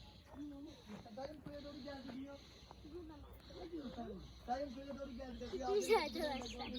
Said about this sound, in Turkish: Evet kuş sesleri bayağı bir var.